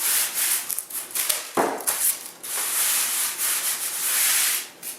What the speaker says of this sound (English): take my orbital sander and get rid of some of these imperfections